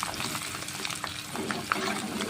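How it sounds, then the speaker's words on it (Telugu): Garlic, curry leaves, asafoetida and cumin crackle and sizzle in hot oil for a chilli pickle tempering, a dense, close hiss with light stirring running throughout. "వెల్లుల్లి కరివేపాకు ఇంగువ జీలకర్ర వేసి ఇలాగా పోపు పెట్టుకోవాలి"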